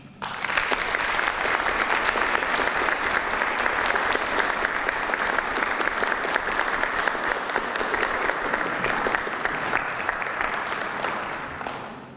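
Sustained, loud applause from an awards-ceremony audience welcoming a professional achievement honoree, a dense steady roar of many hands clapping that runs throughout and tapers slightly at the end.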